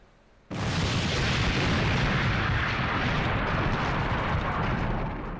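A sudden loud artillery blast after brief quiet, followed by a sustained heavy roar and rumble of continuous explosive artillery fire, close and dense.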